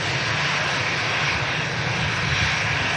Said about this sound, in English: here is that brand new Brussels Neo on the way out